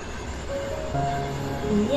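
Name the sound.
moving train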